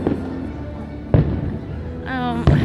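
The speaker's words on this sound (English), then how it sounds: "We saw the fireworks from where we were sitting, which is super cool." Theme park fireworks burst in two sharp booming thumps about a second apart, loud and nearby, with crowd chatter and a voice rising between the blasts.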